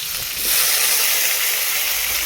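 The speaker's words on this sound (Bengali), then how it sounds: "আলু ভাজছে" Potatoes fry in a pan, a loud steady hiss and sizzle of hot oil that swells after a brief softer start and holds evenly to the end.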